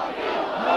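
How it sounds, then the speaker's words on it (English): A large crowd chants for visiting Soviet leader Gorbachev at an East German 7 October anniversary celebration, a brief, loud mass of massed voices. "The crowds chanted for the visiting Gorbachev, not for their own die-hard leaders."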